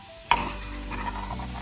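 Chickpeas get stirred about in a frying pan with a little vinegar and spices, one sharp clack of the utensil against the pan followed by a soft, steady scrape and sizzle close by.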